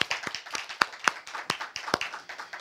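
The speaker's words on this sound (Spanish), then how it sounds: "Damos un aplauso." Congregation clapping during a Catholic Mass, a brief scattered round of hand claps with a few sharp louder claps standing out, moderately close and alone.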